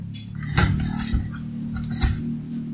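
A plate and metal utensils are handled on a table beside a hot automatic cut-off glue gun set to 200 degrees, producing a few close clinks and clatters over a low steady hum.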